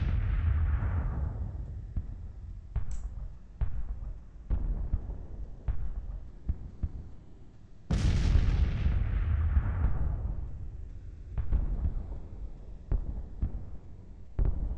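Civil War artillery in the Grand Tactician strategy game fires at long range in a series of heavy booming shots, each a sharp crack followed by a long rumbling decay, one especially big blast midway, with no talking.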